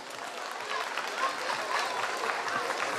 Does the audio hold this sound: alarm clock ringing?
no